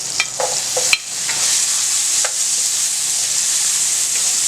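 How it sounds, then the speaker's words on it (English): Chopped onion stirred into a pan of sizzling butter and garlic: a few spoon scrapes and clacks near the start, then a steady, close, bright frying hiss that carries through with no talking. "Then I'm gonna add my onion to that"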